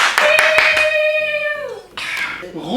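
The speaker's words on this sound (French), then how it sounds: "Un peu d'applaudissements." A few quick, close hand claps sound in a small indoor group, followed by a rising whoop and cheering voices.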